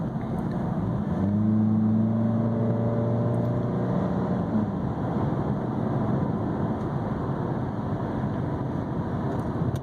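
A 2014 Honda Accord Sport fitted with a K&N Typhoon intake accelerates gently from inside the cabin, a steady engine drone rising in pitch over a few seconds before settling into a constant hum.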